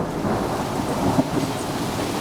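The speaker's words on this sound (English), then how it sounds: "And just a huge clap of thunder." Thunder rolls through a hailstorm, a low rumbling swell over the constant hiss of falling hail and rain, peaking briefly near the middle, with no voices.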